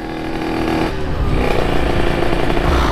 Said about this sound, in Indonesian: Ayo motor aja keluar api semua.